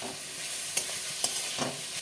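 Bathua greens and fried potatoes stirred in a pan, a steady close sizzle broken by a few soft scrapes of the spoon, with no one speaking.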